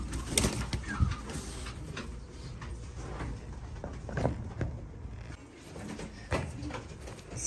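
Pigeons in a Turkish loft, Polish black males among them, coo in low, repeated murmurs over a busy backdrop of rustling and knocks, fairly close and steady throughout.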